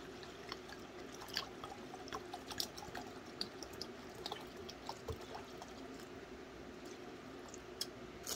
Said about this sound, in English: I'm going to put in here 2 cups of brandy.